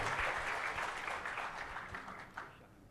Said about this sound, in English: I think we should give a round of applause to our Yang Berhormat Minister.